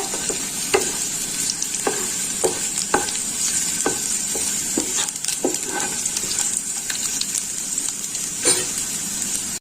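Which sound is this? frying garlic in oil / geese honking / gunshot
frying garlic in oil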